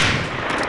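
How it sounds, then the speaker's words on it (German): A loud, close burst of gunfire from the video game Medal of Honor: Allied Assault, a heavy booming report with dense reverberant tail, very brief. "Da hauen die 5 Schüsse raus und alle 5 treffen, oder was?"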